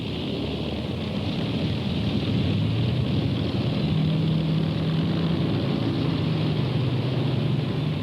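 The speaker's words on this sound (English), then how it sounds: "The first bomber takes off" Avro Lancaster bomber engines taxiing on an airfield before takeoff, a loud, steady multi-engine drone with a throbbing low hum and slight pitch shifts, continuous throughout with no voices.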